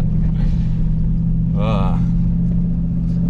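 A 2021 Chevrolet Silverado Custom Trail Boss pickup driving through mud, a loud steady low engine drone throughout, with a brief burst of speech midway.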